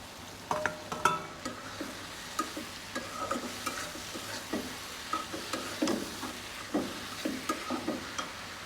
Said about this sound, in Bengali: এখন দিয়ে দিচ্ছি ভেজে রাখা করলাগুলো